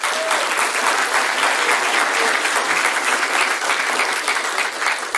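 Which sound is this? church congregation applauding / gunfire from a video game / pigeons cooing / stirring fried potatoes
church congregation applauding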